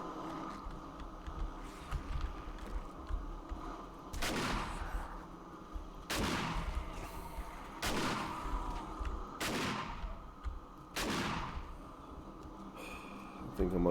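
Gunfire in the video game 7 Days to Die: loud single shots ring out about every one and a half to two seconds, six in all, with a person talking between them.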